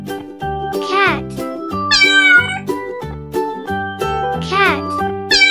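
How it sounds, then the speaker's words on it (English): A cat meows clearly a couple of times over a bouncy, looping children's music backing with jingly notes. "Cat."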